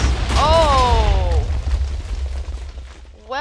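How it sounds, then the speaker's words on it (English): Explosion in a cave-mining video game, a sharp loud burst near the start that rolls off into a low rumble, with a brief electronic tone sweep beside it. "I forgot that explosion was there, specifically"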